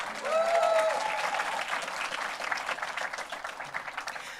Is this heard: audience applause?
yes